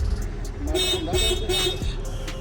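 A Toyota Etios car horn, newly fitted larger horns, honks in a few short blasts over a rumble of road noise, with a voice briefly audible in the background.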